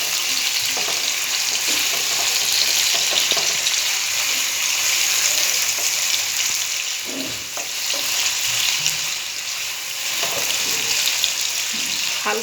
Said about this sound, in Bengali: 2 মিনিট ফ্রাই করব।